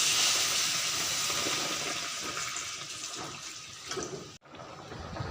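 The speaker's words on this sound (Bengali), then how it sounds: "আর ঝোল অ্যাড করে নিব।" Broth is poured into a pot of Bengali kochu mukhi (taro stolon) curry, a steady rushing, splashing pour that runs for several seconds, briefly breaks off, then resumes.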